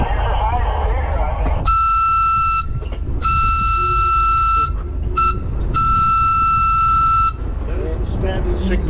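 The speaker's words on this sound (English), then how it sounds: "Standard signal when a train approaches a grade crossing" Diesel locomotive air horn sounding the standard grade crossing signal, loud and close: long, long, short, long blasts with sustained chord tones over a rumbling engine and track noise.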